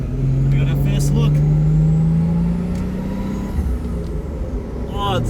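A 1977 Toyota Celica RA28 engine idles and runs steadily on its first drive, a continuous low hum with a rising tone early on, close and loud, with people talking over it.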